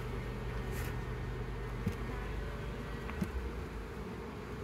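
Honey bees buzz steadily around a hive with supers and a bee escape fitted, a dense continuous drone close by with a few louder passing buzzes and no talking.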